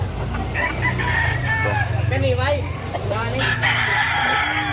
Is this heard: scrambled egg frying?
no